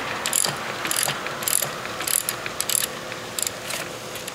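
A ratchet on a 4-inch socket extension loosens a spark plug on a Jeep 4.7L engine, giving quick bursts of close metallic clicking in an uneven rhythm with short pauses between them.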